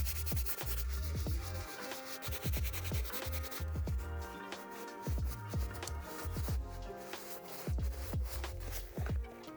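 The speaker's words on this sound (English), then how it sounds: "There is a chance I may need to do 2 passovers with the soft bristle brush." Soft bristle brush scrubbing a badly soiled Reebok shoe, continuous close rubbing strokes with a steady back-and-forth rhythm and no talk.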